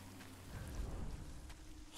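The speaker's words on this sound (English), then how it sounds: "Listen to the rain. It's so pretty." Rain falls steadily in the game Death Stranding, a soft continuous hiss with a low rumble of distant thunder swelling briefly in the middle, heard alone without talk.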